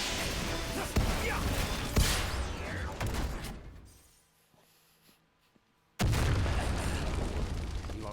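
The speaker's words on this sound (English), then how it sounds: "Cool guys can't see explosions." Explosions in the Final Fantasy 15 video game, with dense crackling blasts and booms, a sudden drop to near silence, then another loud blast that carries on.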